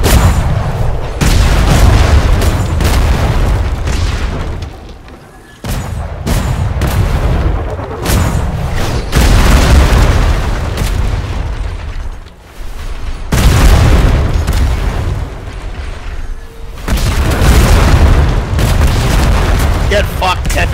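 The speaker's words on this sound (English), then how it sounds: "Cannonballs." Repeated heavy cannonball volleys from ships in the pirate video game Atlas during a PvP sea battle, loud booming salvos in dense bursts with brief gaps, speech faintly mixed in.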